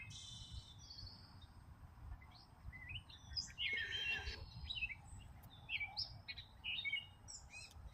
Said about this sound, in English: the pretty birdies chirping, chirping, chirping